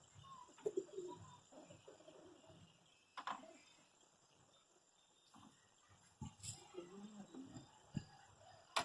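Soft cooing and a few chirps close by from a thin-feathered pigeon that has just landed, with rustling, faint background voices and occasional bumps.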